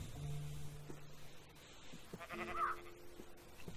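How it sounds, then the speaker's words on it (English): Minecraft sheep bleating, a few faint wavering bleats with quiet game sounds around them, no talk. "You're a disappointment to me, sheep."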